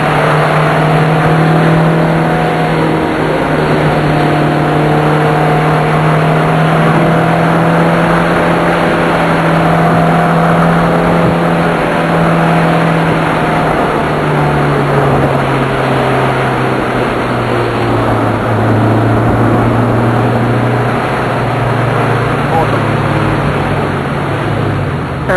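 A Honda S2000 sports car climbing the Bulli Pass, its engine droning loudly and steadily from inside the cabin, pitch rising and falling through gear changes and bends.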